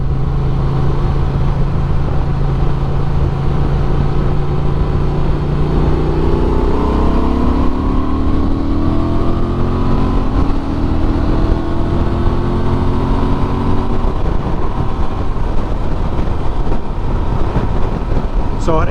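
A 2024 Honda Transalp 750 adventure motorcycle engine drones while riding at highway speed, a loud continuous hum with shifting pitch rising over time, blended with heavy wind rush.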